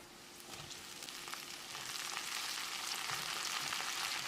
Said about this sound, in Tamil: ஒரு 2 நிமிஷம் கத்திரிக்காயை எண்ணெயிலேயே வதக்கிடலாம்.